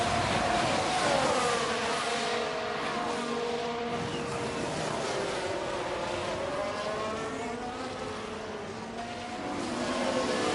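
Formula 1 race cars in F1 Manager 23 scream past one another as they battle for position, with rising and falling engine pitch sweeping through a steady, loud roar.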